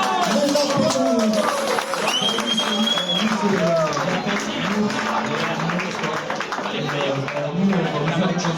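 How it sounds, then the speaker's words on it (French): Audience applause at a small pop-rock concert in Castres, sustained clapping with crowd noise and talk mixed in throughout. "Mesdames et messieurs, pour la première fois ici à Castres, les applaudissements"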